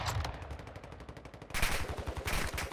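Rapid automatic gunfire bursts in the mobile shooter Warzone Mobile, a fast rattling stream of shots followed by louder, closer volleys, with no talking.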